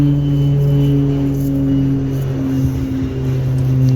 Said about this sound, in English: A lot of planes coming in to land at wings under the cloud cover.